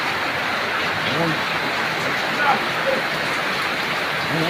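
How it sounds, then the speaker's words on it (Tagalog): A dense, steady roar of heavy typhoon rain pounding down continuously, with no pauses and no voices. "grabe po ang ulan"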